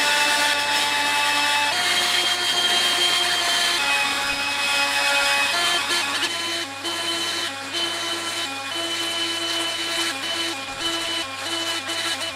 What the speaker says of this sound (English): Testing out this Greenworks blower.